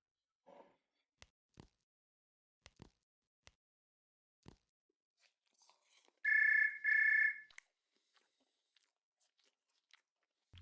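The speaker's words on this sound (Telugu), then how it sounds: "ఈ మధ్య చాలా కాలంగా ఫోన్లు రావట్లేదు ఇవి అనుకుంటున్నాను. అప్పుడే వచ్చింది." Two short electronic phone rings sound in quick succession in a quiet room, preceded by scattered soft clicks and taps.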